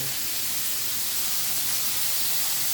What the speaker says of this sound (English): Want to sear all sides of it.